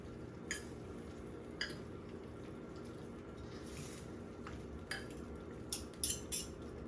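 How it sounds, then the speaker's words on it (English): Cooked pasta being stirred into a baked feta pasta dish with a splash of pasta water: faint, sparse clinks of a utensil against the dish over a low, steady background hum. "I'm just gonna mix the pasta in"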